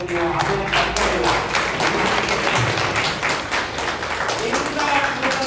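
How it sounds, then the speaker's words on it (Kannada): Sustained applause from a large audience at a speech event, dense steady clapping that fills the whole stretch with a crowd murmur beneath. "ಇನ್ನೊಂದು ರೌಂಡ್ ಚಪ್ಪಾಳೆ ತಟ್ಟೆ ಮುಂಚೆನೆ"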